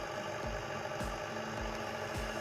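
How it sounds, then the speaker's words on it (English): A tractor engine under a CANplus CP1000 throttle controller, idling with a steady mid-pitched drone and periodic knocking pulses roughly every half second as the RPMs settle lower, close and continuous. "Lowering the target point below the current level causes the RPMs to go down."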